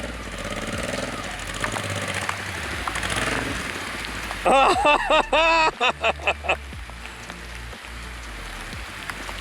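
Honda Transalp motorcycle straining up a muddy climb, its engine droning under a wet, rain-like wash before a run of loud, sharp throttle bursts near the middle.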